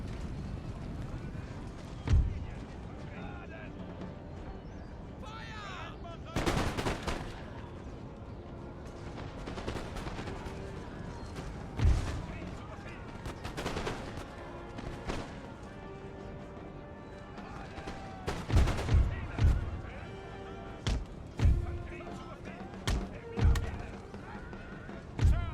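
Battle gunfire in the video game Empire: Total War, with scattered musket volleys and heavy booming shots, some distant and some close, under a continuous battlefield din and intermittent talk.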